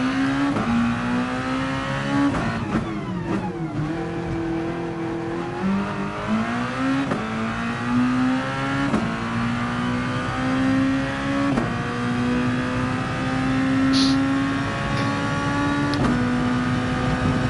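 Racing car engine in a video game lapping the Red Bull Ring, holding a steady loud whine that rises through the gears with brief dips at shifts and a short downshift, continuous and close, with no talk.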